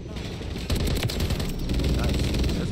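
A helicopter's gun fires in Modern Warfare 3, bursts of rapid automatic gunfire crackling over rotor-like rumble, loud and dense, with a player's voice briefly in the mix.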